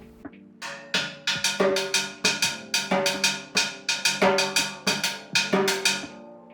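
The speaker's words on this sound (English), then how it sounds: "the timbales are going to be playing a rhythm on the shell called cascara" Loud, dry metallic strikes on a timbales shell in a busy, steady cascara rhythm, with sustained tones humming underneath.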